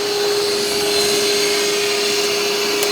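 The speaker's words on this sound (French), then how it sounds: "on a le robot aspirateur et laveur, le SViz RS20 Pro" Ezviz RS20 Pro robot vacuum and mop cleaner running indoors in a house, giving a steady, close, continuous whirring hum with a constant high motor whine and no pauses.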